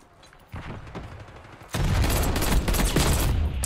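Rapid automatic fire from an AEK rifle in Call of Duty: Black Ops 6, starting with quieter bursts and then breaking into a loud, sustained high-rate stream of shots that continues to the end.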